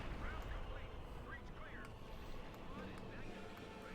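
Artillery fire in the real-time strategy game Company of Heroes 2, low rumbling booms and explosions rolling in the background under a commentator's steady talk.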